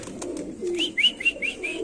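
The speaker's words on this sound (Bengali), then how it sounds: "এটা একটা নর কবুতর, যদি কারো পছন্দ হয় কালেকশন করবেন।" A male racing pigeon coos softly and close up, a short series of four or five rising notes in a quick rhythm over faint background noise.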